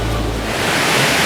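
Crabtree Falls in Nelson County, Virginia, rushes with a steady, loud broadband roar of falling water, close and unbroken, with a breezy gust at the start.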